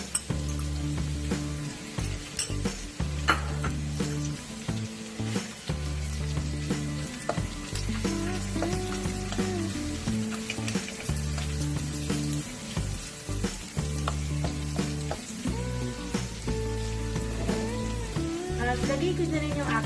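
Pork hits a hot pan during cooking of ginataang kalabasa at sigarilyas and fries with a loud, continuous sizzle, broken by repeated bursts of stirring and pan clatter close by.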